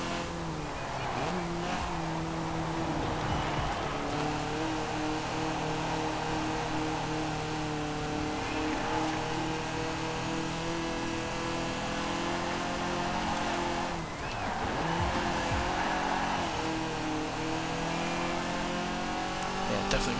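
A race car in Forza Horizon 4 laps the track with a steady, loud engine drone, occasional tire squeals and brief skids, and barely any letup throughout.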